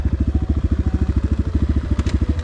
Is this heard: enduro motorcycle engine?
yes